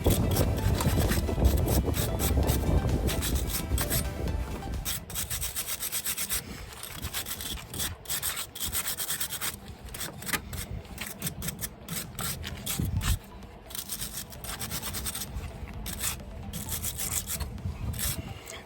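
Car battery posts on a 2016 Chrysler Town & Country being scrubbed clean, with loud, continuous rough back-and-forth scraping close up, heaviest at the start and continuing with short pauses to the end.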